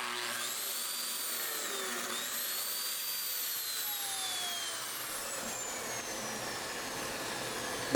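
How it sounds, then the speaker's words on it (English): Lamello Zeta P2 joiner cutting mortises, making a loud high whine whose pitch sweeps up and down as the cutter spins and bites into the wood, steady throughout the cut. "So let's cut those mortises and see what it looks like."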